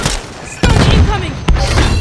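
Stun grenades go off in a Call of Duty match: two sharp, loud bangs about a second apart, each followed by a heavy rumble, amid dense game noise.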